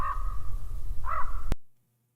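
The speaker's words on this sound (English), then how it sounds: "Now we got crows." Two loud, harsh crow caws close by, one at the start and another a second later, then an abrupt cut to silence.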